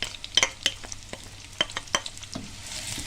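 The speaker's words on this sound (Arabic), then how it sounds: "هحط هنا طاسه واحط فيها البصلايه بتاعتي، هدبلها بس مش هحمرها ولا اصفرها، هتدبل." Onion softening in a pan for an oven-baked meat and onion casserole, faint stirring scrapes and soft sizzling crackles in a few close, sparse bursts.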